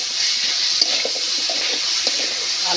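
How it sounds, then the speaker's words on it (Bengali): Potatoes stirred into a spice masala in a hot pan give a steady, close sizzle with soft scraping stir sounds scattered throughout; no voices. "আলুটা দিয়ে আমি ভালো মতো করে কষিয়ে নেব।"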